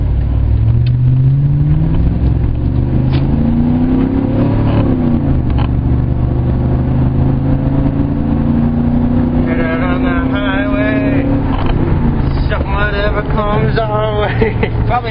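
A pickup truck fitted with a cold air intake and a new exhaust accelerates from 0 to 60, its engine note climbing steadily through several gear shifts. It is heard from inside the cab, with people talking over it.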